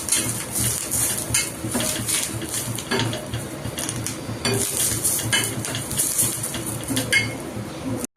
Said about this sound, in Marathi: कोथिंबीरला पण आपण मस्त असं भाजून घेऊया।